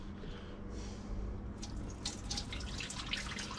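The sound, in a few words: pouring pre-soak water out of a film developing tank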